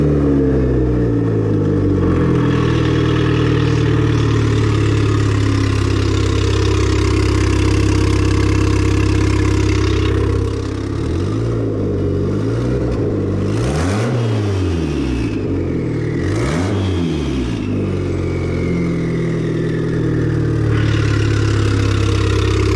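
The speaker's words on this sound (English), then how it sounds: "But let me fire it up for you." Turbocharged Mitsubishi Eclipse 420a engine idling close up with a straight downpipe, a loud, steady rumbling drone that dips and surges briefly midway through before settling back to an even idle.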